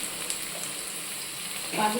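Cloves, cinnamon pieces, bay leaves and crushed whole spices frying in hot ghee give a steady, close sizzle and hiss that swells slightly near the end, with no talk.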